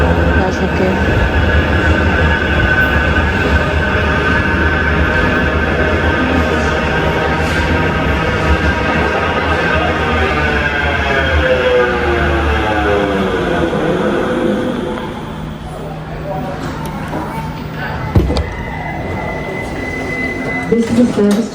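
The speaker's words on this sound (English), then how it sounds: "it should be the tram" A Sheffield tram rolls and hums steadily up close for a long stretch, with rising and falling motor whine and wheel noise. It then eases down into quieter rattles and clunks near the end.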